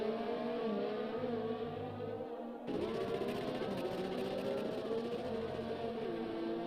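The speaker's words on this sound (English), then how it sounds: "It's a weird gearbox glitch." F1 2020 racing game car with a gearbox glitch: a steady engine drone that drops out briefly, then jumps back in at a higher, harsher pitch and holds, loud and close with no talk.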